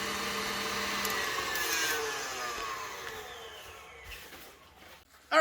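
A Mr. Mixer Wide Classic Plus machine runs after being switched on, giving a steady, moderately loud whirring drone that gradually softens and dips in pitch before a sharp, loud knock at the very end.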